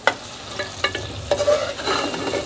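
Okra frying in a hot pan over high heat, stirred carefully with a spoon: a steady close sizzle broken by several sharp scraping clinks of the spoon, with no talking.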